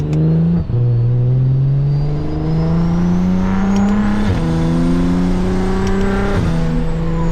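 A BMW 335is engine revs loud and close from inside the car, pitch climbing steadily through two upshifts with brief dips between gears, a continuous strong drone throughout.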